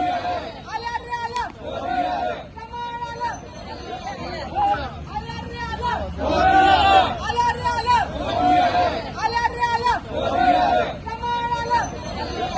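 BJP party workers celebrating in Solapur after the NDA majority win: a loud crowd hubbub of cheering and chanting in rhythmic surges, with drum-like beats and whistles mixed into the babble of many voices.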